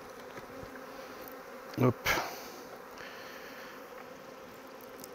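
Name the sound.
honeybees buzzing around an open hive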